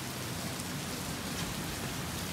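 Hail pelting down outside a house during a storm with a tornado warning in Canada, a dense, steady hiss of falling ice with no gaps, fairly faint and continuous throughout.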